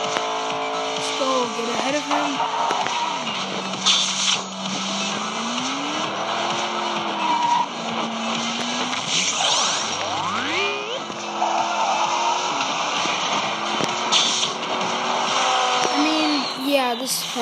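Racing cars in the Hot Wheels ID app video game roar with revving engines that rise and fall as gears shift, mixed with tire squeals and skids, constant and loud while a person talks over the action.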